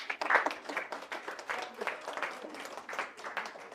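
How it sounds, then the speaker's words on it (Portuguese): An audience at a respectful interfaith debate with a Muslim speaker in St. Mary's church community hall claps in uneven bursts, fairly close and moderately loud, with some voices underneath. "Eu realmente, dou a ela muitos aplausos."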